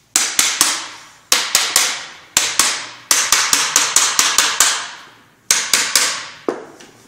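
Light metal tapping blows struck on the cover of a centrifugal pump during reassembly: crisp, ringing knocks in quick clusters of two to six, each with a short metallic decay, close and loud with no talking.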